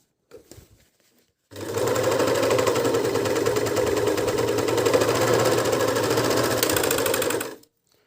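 A Dragonfly 854 overlock sewing machine stitches fabric in one loud, continuous rapid whirring run of about six seconds, preceded by a few faint handling clicks and ending abruptly.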